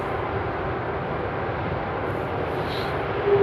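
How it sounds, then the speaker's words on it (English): An Emirates Boeing 777 landing at Frankfurt Airport, a steady broad engine roar at moderate distance, continuous and without voices. "Emirates 777 coming in."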